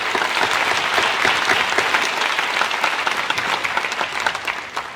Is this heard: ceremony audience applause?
yes